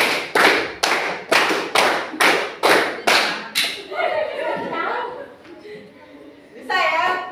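Rhythmic hand clapping in a classroom counting game, eight sharp claps in steady succession, then a pause with faint background noise before another burst of claps.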